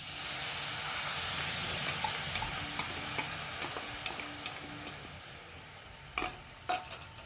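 Jaggery being stirred into a frying pan, a steady hiss of frying with scattered scrapes and clicks of a utensil against the pan, louder taps near the end.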